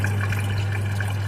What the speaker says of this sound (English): Probably the water is just going behind it and falling down because it is mesh, like water passes through it.